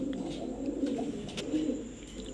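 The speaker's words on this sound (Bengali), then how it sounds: "দর্শক দেখেন কবুতরগুলো" Red Moyna dopash pigeons at a breeder's loft coo softly and steadily, a low rolling burble that carries on without a break. Faint and close, with no voices over it.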